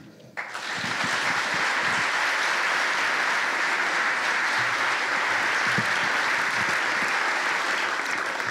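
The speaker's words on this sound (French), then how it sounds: "Merci d'applaudir Célia." An audience breaks into sustained applause to welcome a speaker at an evening talk on quantum physics, a sudden dense wall of clapping that holds steady and loud throughout.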